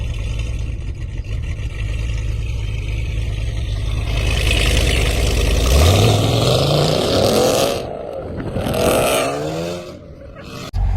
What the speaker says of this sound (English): On the Trackhawk, we have a quad exhaust.